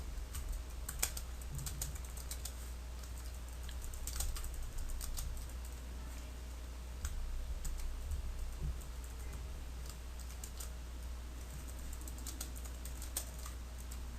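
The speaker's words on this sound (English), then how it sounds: "let me go ahead and just start by typing in a title" Steady typing on a computer keyboard while entering a blog post title, a quiet run of irregular key clicks close to the microphone over a low hum, no talking.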